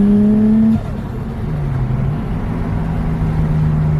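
R33 Skyline with a budget turbo, loud engine droning under load, revs dipping and then climbing and holding steady, heard from close by without voices.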